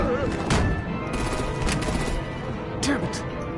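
Sharp bursts of gunfire in a Batman: The Enemy Within game scene, a few loud isolated shots spaced apart amid background action and voices.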